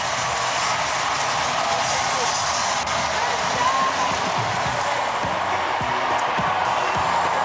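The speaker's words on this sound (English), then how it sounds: "You gotta hear the fucking crowd." Dense, continuous roar of a huge cheering crowd inside the Democratic National Convention hall, loud and sustained with no breaks, with faint voices mixed in.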